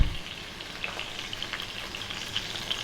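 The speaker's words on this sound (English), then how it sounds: "just a tablespoon of butter. In that goes." Salmon frying in oil in a pan as a tablespoon of butter goes in, a steady close sizzle with scattered crackles and pops running throughout, no talking.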